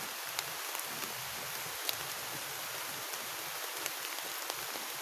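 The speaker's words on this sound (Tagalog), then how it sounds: "Ay, ulan noon." Rain pattering outdoors as a continuous soft hiss with occasional distinct drops striking nearby, fairly quiet and with no voices.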